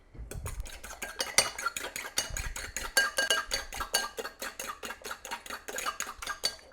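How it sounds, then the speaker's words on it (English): Eggs mixed with chili garlic chutney are beaten in a bowl, a rapid, regular run of close clicking strokes from a fork or whisk against the sides that continues throughout with no voices. "Just beat it all together."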